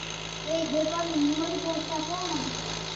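An RV engine in a driving video game, a steady mid-pitched droning hum that wavers slightly in pitch, with a voice talking over it.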